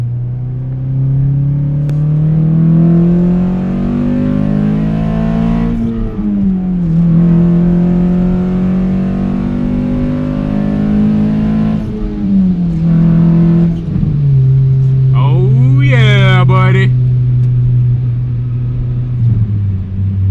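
A car revs hard in second gear, its engine note climbing steadily and loudly from close inside the cabin, then dropping sharply at a gear change before pulling on again.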